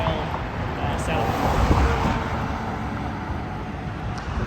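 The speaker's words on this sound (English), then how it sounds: "Sorry, it's noisy and lots of traffic" Downtown Provo street traffic rolls past as a broad, steady roar of vehicles, with a louder swell near the middle, mixed with wind and a voice talking.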